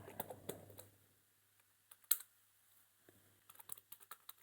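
Java code being typed on a computer keyboard, quiet intermittent bursts of soft keystrokes with pauses between them, heard close.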